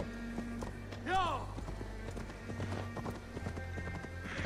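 A horse gallops in Assassin's Creed Valhalla, with a rapid clip-clop of hooves running steadily throughout, a short neigh near the start, and a voice talking over it.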